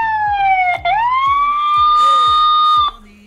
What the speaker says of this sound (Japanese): っていうサイレンを鳴らすことができます。